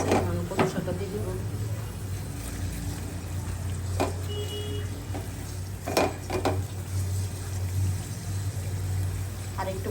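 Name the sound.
sautéing spice paste for taro leaf (kochu shak) dish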